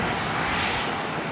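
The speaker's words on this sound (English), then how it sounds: "EVA Air Flight 5 heading back to Taipei," EVA Air Boeing 777-300ER jet airliner at LAX, a brief, steady engine roar heard close and fairly loud, with no voices.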